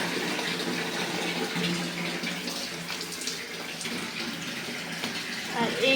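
Tap water runs and splashes steadily into a basin where clothes are being soaked, a fairly soft, continuous gush close by.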